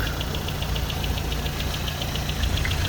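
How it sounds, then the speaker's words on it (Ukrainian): A car engine idles steadily up close, an even low rumble with a faint regular ticking running through it. "Ось дивіться, мотор працює."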